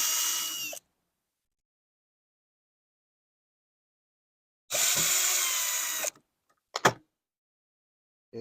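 Power drill backing screws out of a Honda Element door panel during a window regulator repair: two close whirring bursts separated by silence, the second longer, followed by a couple of short clicks and knocks.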